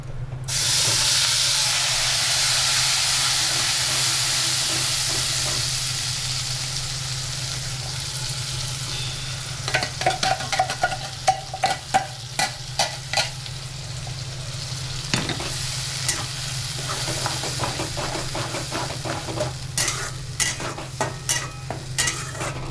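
Whole cinnamon, cloves and small cardamom fry in hot oil in a pan, first a loud steady sizzle, then repeated clattering stirs and scrapes over a softer hiss.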